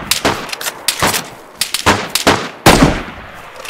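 Gunfire in the survival game DayZ: a series of sharp, loud single shots and short bursts spaced irregularly, with echoing tails, heard alone without talk.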